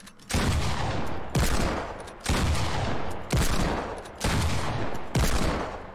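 Fortnite double pump shotgun and Deagle gunfire, six loud evenly spaced blasts about a second apart, each with a sharp attack and a long decaying tail, alone with no voices.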